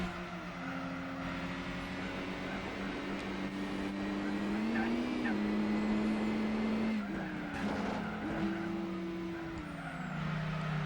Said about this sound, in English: There's still a lot of wheel spin coming from this car